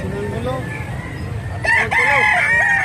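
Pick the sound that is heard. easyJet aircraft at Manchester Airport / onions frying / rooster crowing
rooster crowing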